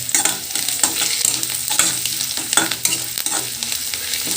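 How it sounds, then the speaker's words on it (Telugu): Asafoetida and tempering spices sizzle in hot oil for a lentil and spinach dal, a busy crackling fry with frequent stirring scrapes and spatters, close and steady, no voices. "పోపును మంచిగా వేసుకోవాలి, అలాగని మాడిపోకూడదు"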